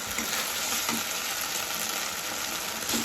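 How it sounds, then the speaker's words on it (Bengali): Spice paste for an egg curry sizzles and fries in oil while being stirred, a steady close crackle with soft scraping strokes throughout. "যতক্ষণ মশলাতে তেল না ছাড়ছে ততক্ষণ নাড়তে হবে মশলাটি কষিয়ে"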